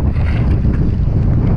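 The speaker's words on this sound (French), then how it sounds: "il y a 40-50 km de vent minimum aujourd'hui" Strong gusting wind of 40 to 50 km/h roars across a model airplane flying field on a stormy day, a loud, close, low rumble buffeting the microphone without a break.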